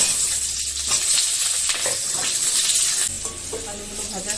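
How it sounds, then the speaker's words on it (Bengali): Potatoes fry in oil in a kadai, a steady bright sizzle with occasional stirring scrapes, close and continuous, dropping slightly in level partway through. "প্রথমে আমি আলু কটা ভেজে নেব।"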